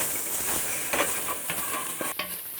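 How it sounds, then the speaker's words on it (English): Vegetables sizzle in an oiled pan while being stirred, a bright continuous frying hiss with a few soft knocks and scrapes of the spoon, close and with no talking. "Again, stir these in a little bit."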